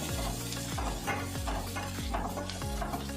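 Bitter gourd for theeyal fries to golden brown in a pan, giving a steady, busy sizzle. A spoon scrapes through it in regular strokes about every half second.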